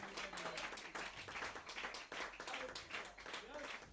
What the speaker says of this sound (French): Donnez-lui une main d'acclamation de l'église.